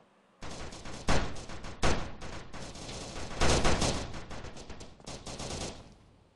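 Gunfire in the mobile video game Prop Hunt: dense rapid automatic bursts with several sharper loud shots, continuous for about six seconds after a quiet start, with no voices.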